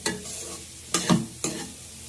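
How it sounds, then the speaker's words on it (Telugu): Chopped snake gourd frying and being stirred in a pan for a curry, with a steady sizzle and three louder scraping stirs as the pieces are tossed, close and without talk. "ఇప్పుడు తరిగి పెట్టుకున్న పొట్లకాయ కూడా వేసుకుందాం పొట్లకాయ కాస్త హాఫ్ బాయిల్ అయ్యే వరకు బాగా ఫ్రై చేసుకుందాం"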